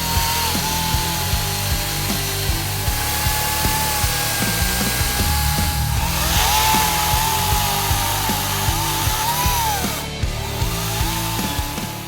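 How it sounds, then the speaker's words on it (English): A Greenworks 60V Pro 18-inch battery-powered chainsaw cuts through wood with a steady whining drone, its pitch dipping and recovering as the chain bites, loud and continuous throughout. "This is the Greenworks 18-inch battery-powered chainsaw."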